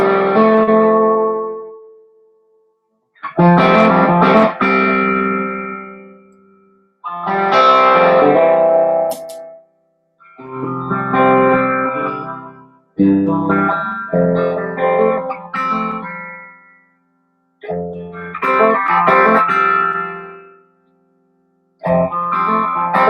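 An electric guitar plays through a pedalboard of effects pedals, giving loud distorted, chorus-and-echo-coloured phrases in separate bursts with short silent gaps between them.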